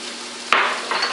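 Onions and vegetables sauté in a pan with bacon and a little sugar, giving a steady close sizzle that sharpens briefly as the food is stirred.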